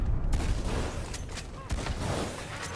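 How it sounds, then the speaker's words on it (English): Video game gunfire as two players shoot at once: dense, close bursts of rapid shots and sharp cracks with a heavy low rumble, a few louder impacts standing out over the continuous racket. "they're just fucking both shooting at me"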